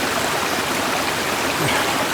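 Water of a small stream runs off steadily along a hiking trail by the Duck River near Cullman, Alabama, a continuous close rushing and trickling wash with no voices.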